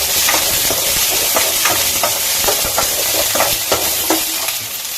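Whole small onions and mustard seeds fry in hot oil, giving a loud, steady sizzle with scattered pops and crackles and a few stirring scrapes, with no voices over it.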